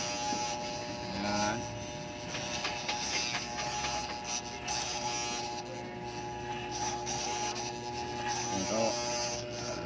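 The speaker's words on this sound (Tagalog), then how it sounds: "Sa paggupit, ihahagod natin ang clipper na ito sa buhok." Electric hair clipper running through hair against the scalp, a steady close buzzing hum with brief shifts in pitch as it moves, continuous throughout with faint voices now and then.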